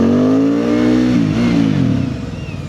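Benda 707 motorcycle engine revving hard, loud and close, a steady aggressive roar that rises in pitch, then drops as it shifts and climbs again.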